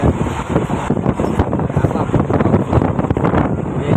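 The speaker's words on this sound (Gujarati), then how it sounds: "પવન ફૂલ આવે છે" Strong wind buffets the microphone with constant loud rumbling gusts, and faint voices can be heard underneath.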